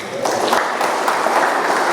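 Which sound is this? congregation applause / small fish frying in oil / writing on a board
congregation applause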